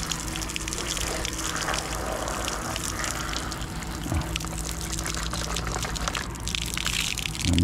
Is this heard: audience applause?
no